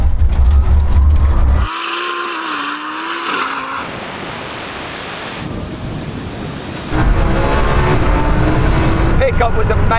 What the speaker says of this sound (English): Jürgen, we're going to do a rolling race from 30 miles an hour. We'll race to the half mile.